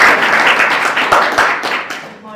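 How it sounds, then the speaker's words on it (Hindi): An audience at a teacher training college event in Udaipur breaks into loud, dense applause, many hands clapping at once and close by, fading toward the end. "डलवाने में मेरे पेशेंट्स के लिए ताली बजाओ एक बार।"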